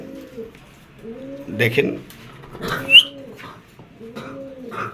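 Spanish chorra pigeons coo in soft, repeated rising-falling calls, three clear bouts in the background, while someone talks over them with occasional louder bumps.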